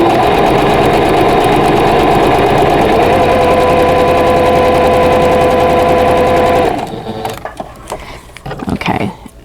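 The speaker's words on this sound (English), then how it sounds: "I'm just going to go ahead and stitch on this dotted line. And then swing around and sew on the other dotted line." A sewing machine stitches a quilt block along a dotted line. It runs as a loud, steady, close mechanical whir for about seven seconds, then stops, leaving faint handling noises.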